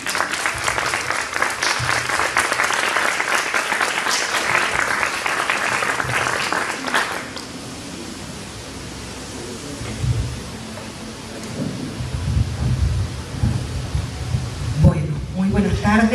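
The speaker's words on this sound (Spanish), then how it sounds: "Un fuerte aplauso, por favor." An audience at a talk breaks into loud, dense applause that lasts several seconds, then fades into room murmur, with a voice starting to speak near the end.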